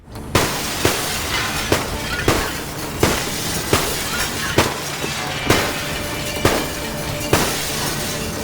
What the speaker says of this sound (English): shooting at glass in this game gives a super satisfying sound effect